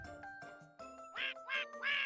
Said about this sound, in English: Max who quacks.